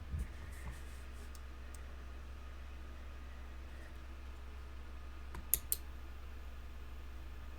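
Two quick clicks from a steering wheel heating switch being pressed on a swapped S550 steering wheel fitted to an S197, sharp and close over a quiet, steady background hum.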